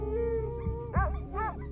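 A dog howls in a few short, rising and falling wails over a steady low background hum, moderately close and fairly quiet.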